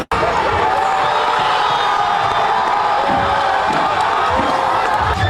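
Knicks fans at a watch party roar and cheer in a dense, loud crowd din, with whoops and shouts rising over a steady wall of noise that holds throughout.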